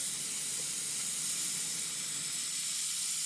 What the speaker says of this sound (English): I'm spraying the brown into the green right now.